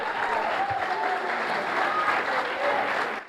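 A church congregation applauds in a loud, dense, continuous roar of clapping that holds steady throughout, with voices blended into the crowd noise.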